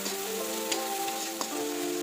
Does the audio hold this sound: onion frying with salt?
yes